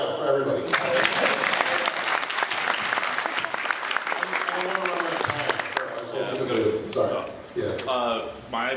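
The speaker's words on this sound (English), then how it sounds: "Everybody applaud right now for everybody." A convention panel audience at PAX East 2010 claps in a sustained burst of dense applause lasting several seconds, then thins out as people begin talking.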